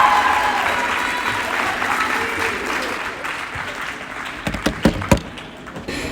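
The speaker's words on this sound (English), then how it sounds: "Let's keep that applause going as we welcome to the podium the woman of the hour" Loud audience applause fills a hall as a speaker is welcomed to the podium, a dense wash of clapping that slowly thins, with a few sharp louder claps near the end.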